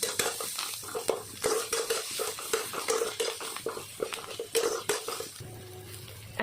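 Onions with salt, turmeric and garam masala fry in a pan while a spoon scrapes and stirs in quick repeated strokes over a soft sizzle, close up with no talking.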